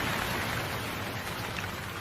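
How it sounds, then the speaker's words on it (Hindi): Heavy storm rain in an Indian village pours as a dense, continuous hiss and patter, loud and even for the whole stretch with no voices. "अब ये बारिश मुझसे बर्दाश्त नहीं हो रही है।"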